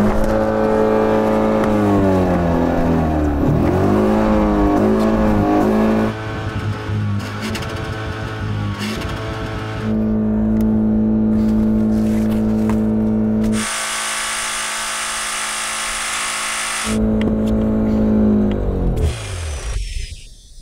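A BMW engine runs hard and revs repeatedly, its pitch climbing and falling in surges, with harsh high-pitched stretches and a sputtering drop at the close.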